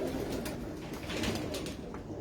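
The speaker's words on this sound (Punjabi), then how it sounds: "ਕਬੂਤਰ ਹੈ ਜੀ" A pigeon from a crossbred quail-type breed coos softly and steadily at close range over a constant background hum, with no voices.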